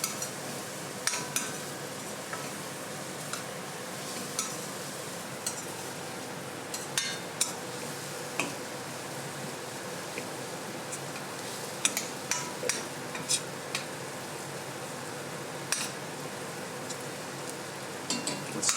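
Browned onions stirred with ginger garlic paste in a pan for an Indian curry, giving a continuous soft sizzle broken by intermittent clinks and scrapes of a utensil against the pan, close and moderately loud, with no talking.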